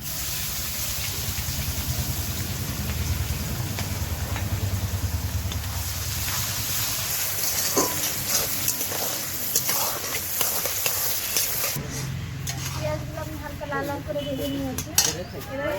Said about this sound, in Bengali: দারচিনি এলাচ গোটা গরম মশলা সব আছে ফোড়নে দিয়ে দিচ্ছি কেটে রাখা পেঁয়াজ কুচি তেলের উপর দিয়ে দিয়েছি